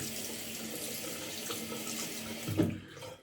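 Tap water runs steadily into a sink during face washing while shaving, a close, even splashing stream that briefly surges near the end before fading out.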